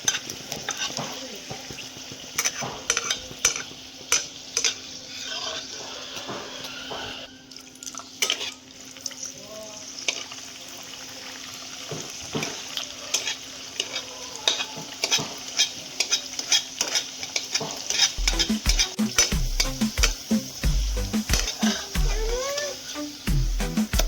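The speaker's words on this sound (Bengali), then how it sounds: "আরেকটা লুচি ভেজে নিচ্ছি।" Luchi flatbread deep-fries in hot oil with a constant crackling sizzle, dotted with frequent small pops and occasional utensil clinks, steady and close throughout.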